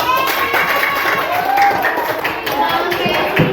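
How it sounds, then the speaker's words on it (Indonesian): Class of students in a school lesson clapping hands together, a lively patter of claps with some chatter and voices mixed in, steady and close throughout. "Tepuk tangan dong."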